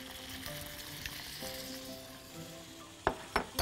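Shrimp and mushrooms sizzle in a pan during a quick sauté for risotto, a steady close frying hiss with a few sharp clinks of stirring near the end.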